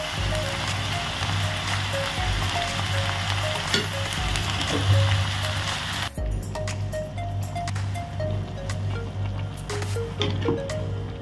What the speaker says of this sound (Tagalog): Wait lang natin na lumambot ang ating mga gulay. Then, lagyan na natin ang ating pansit canton.